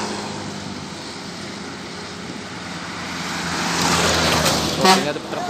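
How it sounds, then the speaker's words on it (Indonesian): A Putra Pelangi bus passes on the road amid traffic. Its engine rumble swells steadily toward the end, with a short sharp horn-like burst near the close. "Ternyata bus Putra Pelangi"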